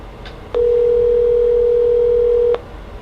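A telephone line on an outgoing call gives a single steady ring tone, one unbroken pure tone lasting about two seconds over a quiet line, with faint clicks at start and end.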